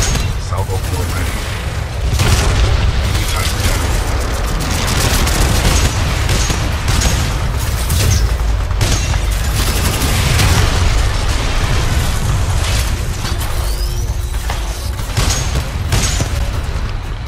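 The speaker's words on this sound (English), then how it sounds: "we can lock onto enemies and target them with tracking rockets" A salvo of tracking rockets from a Titan in Titanfall 2's Blood and Rust mission: dense, continuous booms and bursts layered over rumbling combat noise, loud and close throughout.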